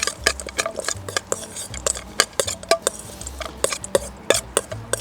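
A paste of pistachios and oil is stirred in a bowl with a utensil, producing quick, irregular clinks and scrapes against the dish at close range.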